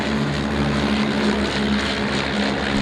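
Propeller aircraft from the Dragons display team flying at the Duxford air show, a steady, loud engine drone with a low buzzing hum that holds without break, no voices.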